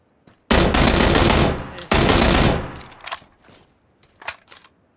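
Gunfire from PUBG, a battle royale video game, erupts in two loud, sustained automatic bursts close by, followed by scattered fainter shots and small impacts.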